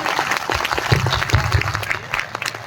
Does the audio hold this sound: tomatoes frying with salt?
no